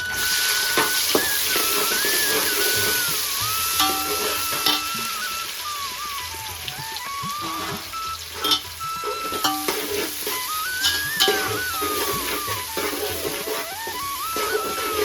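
Onions sizzle steadily with rock salt in a hot pan as a spoon stirs and scrapes now and then, with faint chirping in the background, while prawn biryani is prepared.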